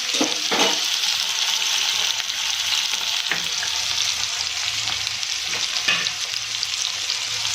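A tomato mixture fries in a pan for sev tameta nu shaak and is stirred, giving a steady close sizzle with scraping strokes of a spoon.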